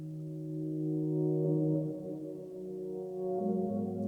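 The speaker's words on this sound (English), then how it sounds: "this is what the reverse ambient progression sounds like" A reversed ambient chord progression in a beat production: sustained, swelling tones that rise in loudness toward each chord change, steady and close with no voices.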